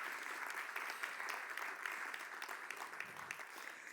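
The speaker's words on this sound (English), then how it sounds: "So, Oscar, let's give him a big round of applause." A conference audience claps steadily for a volunteer called up on stage, a dense, even wash of applause lasting the whole stretch with no voices standing out.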